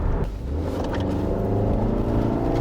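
A Nissan X-Trail gasoline engine accelerates on the road, giving a loud, steady, close drone that builds slightly and holds without pause.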